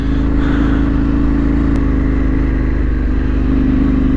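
A dirt bike engine drones steadily and loud while riding a wooded trail at night, with a constant mid-pitched hum and little change in revs.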